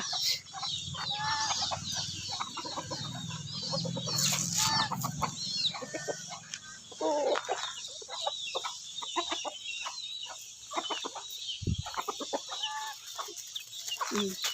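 Chickens cluck and squawk busily, with a rooster calling among them; a lively, close flock with no talking.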